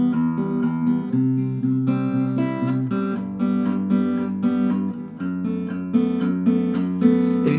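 An acoustic guitar is fingerpicked in a repeating pattern for a song, with a steady bass and plucked upper strings ringing together, close and solo without voice.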